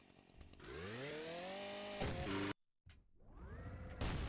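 A video game chainsaw revs up with a rising whine and holds a loud, buzzing drone, cuts out briefly, then roars again alongside shotgun-style gameplay.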